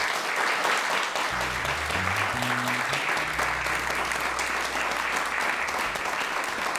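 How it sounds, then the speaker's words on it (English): Loud, continuous applause from the audience at a school concert fills a hall, a dense wash of clapping, with a few low instrument notes sounding underneath partway through. "Here's where I cue applause."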